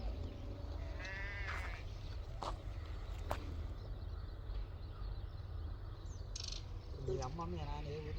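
Sheep bleat at a rural flock in Karlapalem, a few wavering calls near the start and again near the end over steady outdoor background noise, with faint bird chirps and brief sounds in between.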